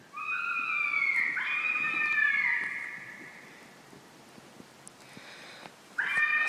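A fisher's long, wavering scream rises and fades over a few seconds in woods, followed by quiet with faint clicks, then another shrill cry starts near the end.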